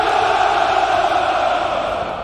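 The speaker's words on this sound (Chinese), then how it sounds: "红场阅兵，那万众欢呼的乌拉乌拉" Massed voices of troops at the Red Square military parade shouting a drawn-out "Ura," a broad sustained roar from a distance that tapers off toward the end.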